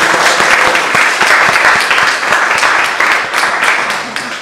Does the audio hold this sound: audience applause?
yes